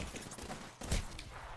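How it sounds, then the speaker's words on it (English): Gunfire in the battle royale shooter Apex Legends, a burst of fairly distant shots in the middle of the clip over continuous game ambience, with no speech. "Hear gunshots to the east."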